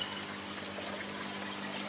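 Water runs and trickles steadily through an aquaponics setup of a 1,000 litre agricultural drum filled with netting, a faint, continuous close wash with no speech.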